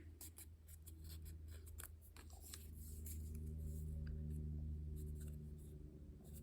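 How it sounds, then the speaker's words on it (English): Scissors cut through paper for a budget journal craft project, a run of close, quiet crisp snips and rustling paper with a steady low background hum. "I'm just going to cut this one in half, like that."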